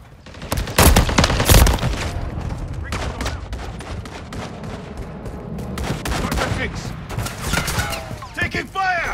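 Gunfire in Call of Duty MW3 team deathmatch, with loud sharp shots and bursts clustered early, then scattered fire and booms throughout, mixed with game voice callouts.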